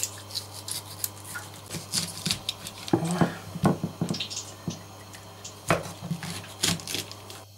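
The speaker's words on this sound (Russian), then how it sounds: "Теперь ноги я слегка вот так подрежу." A knife cuts into pork trotters with irregular scraping, crunching strokes and sharp ticks in uneven bursts, close up, over a constant low hum and with no talking.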